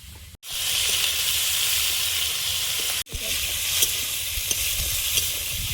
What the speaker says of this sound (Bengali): চিংড়িটা ওই 1 মিনিট মতো ভেজে নেবো